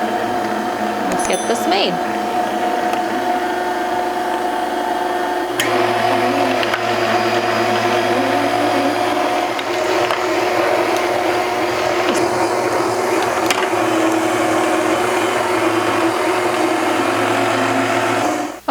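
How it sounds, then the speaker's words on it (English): A KitchenAid stand mixer running on medium-high drives a food mill attachment pressing tomatoes, a steady loud motor whine with a shift in pitch partway through, while a person speaks briefly over it. "So now we'll just turn the KitchenAid mixer on medium-high."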